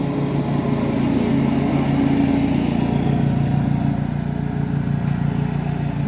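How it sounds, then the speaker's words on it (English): A lawn mower runs outside mowing grass, a steady, fairly loud droning engine hum that holds continuously throughout without pause or talk. "somebody's mowing grass"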